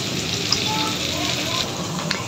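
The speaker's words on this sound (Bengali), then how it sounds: "এখন কেটে রাখা পেঁয়াজগুলো দিয়ে একটুক্ষণ ভেজে নিচ্ছি।" Chopped onions frying in a pan with salt while potatoes and bay leaves are prepared, giving a steady soft sizzle with faint crackles throughout.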